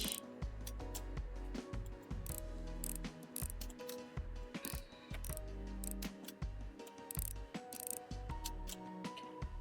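Screws are backed out of an electronic device being restored, a close run of small rhythmic ratcheting clicks and squeaks, repeated steadily with brief pauses, quiet and alone.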